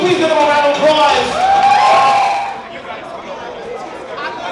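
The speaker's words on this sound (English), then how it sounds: "Will you please give them a round of applause?" A lively crowd at a ballroom vogue ball cheers, whoops and shouts over scattered clapping, loud and excited for a couple of seconds before settling into softer chatter.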